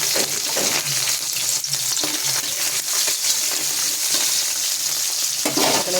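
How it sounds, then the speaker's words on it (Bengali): Fish pieces frying in hot oil over a low gas flame, a steady close sizzle with soft crackles and a few stirring scrapes throughout, no voices. "তেল গরম হয়ে গেছে, দিয়ে দেবো মাছ। মাছটা কিন্তু গ্যাসটা কমিয়ে দিয়েই ভাজতে হবে।"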